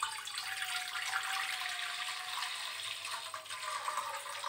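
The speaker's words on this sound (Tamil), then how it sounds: "இவ்வளவு தண்ணி ஊற்றியிருக்கேன்." Steady rushing of water pouring into a cooking pot, a continuous broadband splash with a faint rising tone as it fills.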